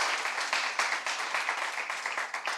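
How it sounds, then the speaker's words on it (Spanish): A church congregation applauds, many hands clapping in a steady rhythmic burst that runs without a break, fairly close and even in loudness. "Dele el aplauso al Señor"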